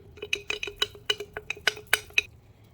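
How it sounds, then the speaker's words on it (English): A spoon clinks repeatedly against the sides of a jar while stirring a gluten-free sourdough starter, about a dozen quick bright knocks in an uneven rhythm, close and clear with no voices. "We're going to give it a really good stir."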